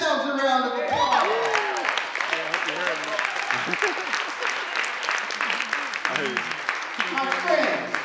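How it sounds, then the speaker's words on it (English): A crowd gives itself a round of applause: loud, sustained clapping filling the space, with voices calling out over it. "Give yourselves a round of applause."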